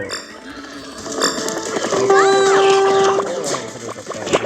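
A sheep in the PK XD video game gives a drawn-out bleat in the middle of the clip, loud and close, with a player talking over the game sounds before and after.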